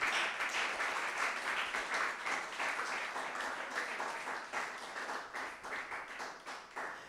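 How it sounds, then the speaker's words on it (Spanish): Sustained applause from a church congregation during a Spanish-language service, dense clapping that carries on evenly for several seconds at moderate distance before easing slightly near the end. "Regálele fuerte esa ofrenda de aplausos al Rey que vive."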